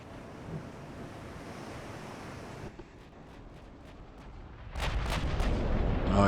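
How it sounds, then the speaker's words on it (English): Battleship broadside gunfire in the naval game Ultimate Admiral: Dreadnoughts: after a stretch of wind and sea ambience, several heavy, booming cannon blasts fire in quick succession. "here comes our first big broadside coming their way"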